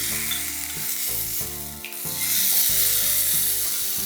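Chicken for a Moroccan dish fries in a pan with a bright continuous sizzle, partly masked by steady background music with a repeating beat and no speech.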